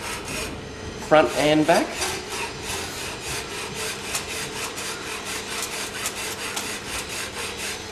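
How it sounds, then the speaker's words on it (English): Steady back-and-forth rasping of a hand file on a Magura HS33 bike brake part, repeated strokes at an even rhythm, close up, with a brief spoken remark near the start. "Just keep filing."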